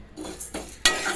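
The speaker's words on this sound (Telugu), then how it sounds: "కంది పచ్చడికి కావాల్సిన కందిపప్పు, ఎల్లిపాయలు, చింతపండు, ఎండుమిరపకాయలు, ధనియాలు, జీలకర్ర ఇవన్నీ వేయించుకోవాలండి." Lentils, garlic, tamarind, dry chillies, coriander seeds and cumin dry-roasting in a pan for kandi pachadi, with a few close scrapes of a spoon against the pan and a faint sizzle, ending in a louder scraping stir.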